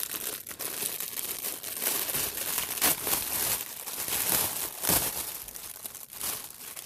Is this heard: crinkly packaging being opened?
yes